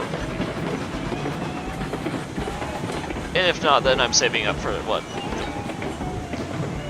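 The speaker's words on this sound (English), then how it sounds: "this train will probably be perfect." A train runs in the video game Railroads Online, giving a steady rumble with rhythmic rail clatter under continuous talk, and a short burst of squealing, whistling tones in the middle.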